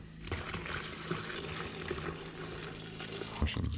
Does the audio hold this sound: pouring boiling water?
yes